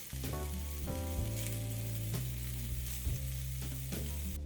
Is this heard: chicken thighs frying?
yes